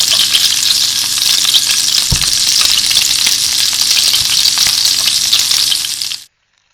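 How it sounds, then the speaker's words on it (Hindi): Gola kebabs fry in hot oil, a loud, steady sizzle that runs unbroken for several seconds with an occasional low thump, then cuts off abruptly. "तो हमारे ये वाले कबाब भी फ्राई हो गए हैं, रेडी हो गए हैं।"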